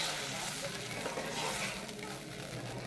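Yogurt being stirred in a hot frying pan while making yogurt tilapia, a steady close sizzle with soft scraping of the spoon underneath, continuous and fairly quiet.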